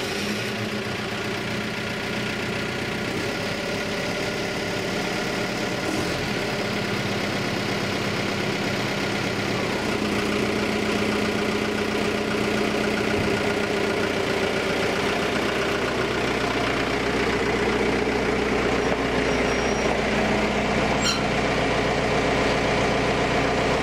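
A Mercedes 711D motorhome diesel engine running at a steady idle, a constant close rumble with a faint knock at the start and a slight shift in tone partway through, no talking.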